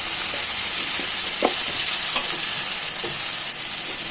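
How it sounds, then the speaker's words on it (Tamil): Onions and tomatoes sauté in hot oil with mustard seeds and fennel for a crab pepper gravy, a steady, even sizzle with a few soft stirring knocks and no talking. "வெங்காயம் தக்காளியும் போட்டு வதக்கிட்டோம். நல்லா கொஞ்சம் வதங்கட்டும்."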